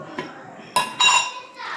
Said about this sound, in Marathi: आता कढई ठेवते गॅसवर.